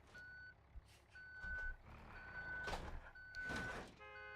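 A truck's reversing alarm beeps in BeamNG, a string of steady evenly spaced tones mixed with engine rumble and a hiss of air brakes near the end.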